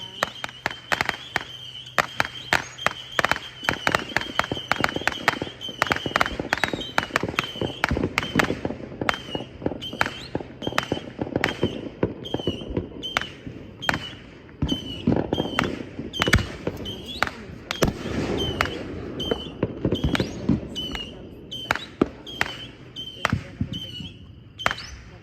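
Firework mortars fire in rapid succession during a fireworks test at Sunset Hill Brewing Co., loud sharp cracks and thumps tumbling over one another with little pause for the whole stretch, fairly close, with voices faintly underneath.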